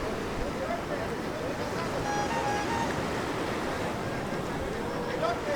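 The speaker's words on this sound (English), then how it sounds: "Look at that lovely beach." Surf washes steadily onto the beach at Puerto Vallarta as a continuous broad roar, with wind buffeting the microphone and faint speech in the background.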